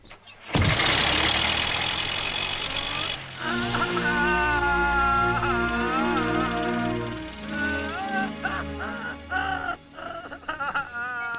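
In a Tamil film scene, a vehicle engine cranks with a loud burst, then settles into a steady running hum that lasts several seconds, with tonal music layered over it.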